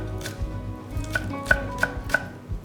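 A knife chops Korean green onions (jjokpa) on a cutting board while a soybean sprout rice dish is prepared. The quick, light chops come in an irregular rhythm, close and fairly soft.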